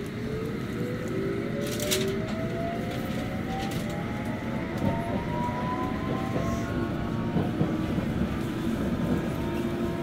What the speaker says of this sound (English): This is a District Line train to Ealing Broadway.